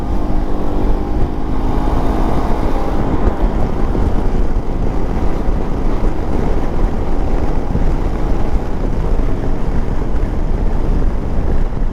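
A 2023 Yamaha XMAX 300 scooter accelerating on the road, its engine note steady and loud under heavy wind buffeting on the microphone for the full stretch, with no talking.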